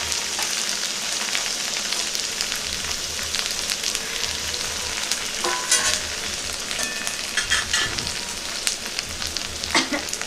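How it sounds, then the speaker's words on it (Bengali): Ginger-garlic paste fries in a pan while being stirred, producing a dense, continuous sizzle close by, with sharper scraping spatula strokes near the end. "নেড়ে নিচ্ছি"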